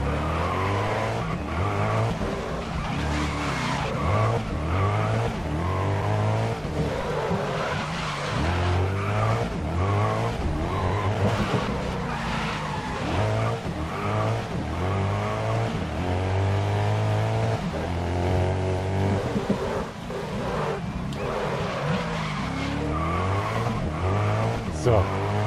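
Race car tires skidding and engine droning in the racing video game GRID during a Hypercar night challenge race, a continuous loud roar of engine and tire noise running under steady talk.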